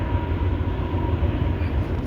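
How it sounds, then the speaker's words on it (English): Trains passing near a house where siding, soffit and fascia are being installed, heard as a steady, loud low rumble with a faint tonal hum throughout and no voices. "Oh, there's the trains for you."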